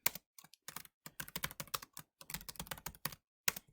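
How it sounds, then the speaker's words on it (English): Rapid clicking of computer keys in uneven bursts with short pauses, close and crisp, no voices. "I'm going to keep typing this until the end."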